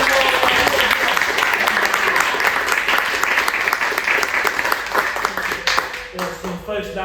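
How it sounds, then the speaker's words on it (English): An audience at a Maori cultural performance gives loud, sustained applause for a warrior performer; the clapping is close and dense, fades slightly toward the end, and a voice speaks over it. "Ladies and gentlemen, how about a round of applause for our second warrior?"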